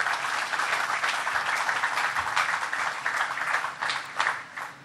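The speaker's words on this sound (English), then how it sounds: "Let's give them a round of applause." An audience at Penn Station applauds during a governor's announcement, a continuous, moderately loud spread of clapping that swells and eases slightly before tapering off at the end.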